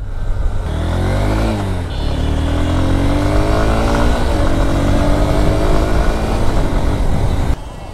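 A Honda Hornet 2.0 motorcycle is ridden along a road, its engine rising and falling through several gear changes and throttle swells, loud and close, with wind noise and no talk.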